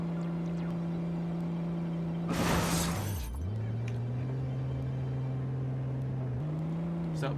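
A toy truck drives in the video game Toy Commander, a steady buzzing motor drone whose pitch dips and shifts, interrupted midway by a sharp crashing burst like breaking glass.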